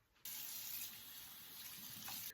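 Tap water gushes steadily into a bathroom sink during face washing, a close, continuous splashing stream that starts abruptly and runs without a break.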